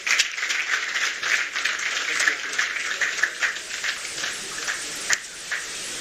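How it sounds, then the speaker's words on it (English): An audience at an official ECOWAS biometric identity card launch claps after a speech, with rapid, scattered hand claps in a continuous wave that gradually thins toward the end. "I don't think you are clapping for only member states."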